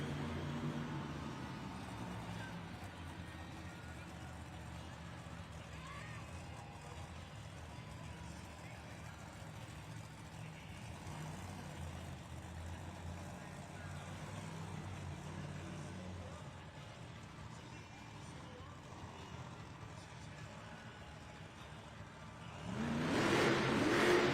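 Grave Digger monster truck at a Monster Jam arena show in Sacramento, California, its engine a steady distant rumble under crowd noise and announcer talk, swelling louder near the end.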